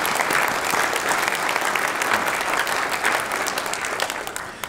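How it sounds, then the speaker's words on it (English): Crowd at a Nashville Fire Department commendation ceremony applauding in a sustained, loud, dense roll of clapping that carries evenly before tapering off at the very end. "Applause one more time."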